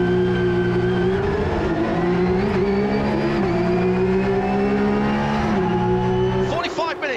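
Porsche 992 GT3 Cup race cars scream past at Road Atlanta, a loud sustained high-revving engine drone with shifting pitch throughout and a brief squeal near the end, with a commentator talking over it.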